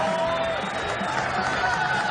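Dubbed-in crowd reaction for a Shaq balloon magic stunt by Criss Angel: a steady, even wash of murmuring and cheering voices, moderately loud and continuous, with no distinct individual shouts.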